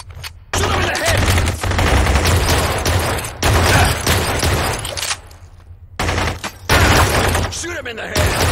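Rapid gunfire from the shooter game Blue Estate, loud and nearly continuous, with sustained bursts and shattering impacts and only a couple of brief pauses, while voices talk over it.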